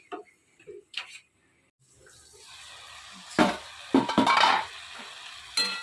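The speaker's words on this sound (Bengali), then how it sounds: "আজকে একটু পটল আলু ভাজছি" After a few quiet clinks, pointed gourd and potato start sizzling in a pan, a hissing fry with sharp stirring scrapes and bursts.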